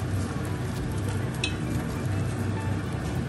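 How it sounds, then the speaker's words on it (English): Beer-battered salted fish fillet deep frying in hot oil gives a dense, continuous crackling sizzle at close range, steady throughout with no voices. "dip it into the batter, the beer batter, and put it into the hot."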